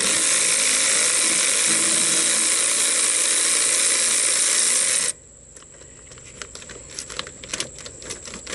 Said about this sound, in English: Start this with a ratchet because there's not a lot of room.